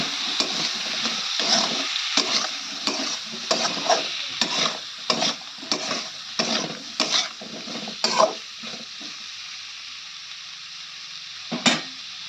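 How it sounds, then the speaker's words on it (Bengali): Elephant foot yam sautéed in a pan with turmeric and ginger-garlic paste: a close, steady sizzle under repeated scraping stir strokes for about eight seconds, then near quiet with one last stroke. "দেখো ওল কিন্তু কষানো হয়ে গেছে।"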